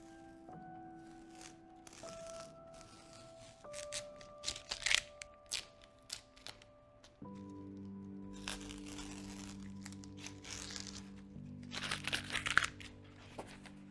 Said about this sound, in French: c'est quand on rend l'aspect final à cette aquarelle en lui enlevant les rubans adhésifs